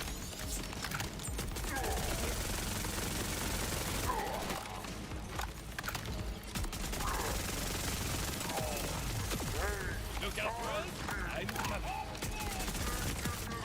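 A gun in the Borderlands 4 video game fires steadily, rapid repeated shots over about thirteen seconds mixed with game effects and mechanical clicks.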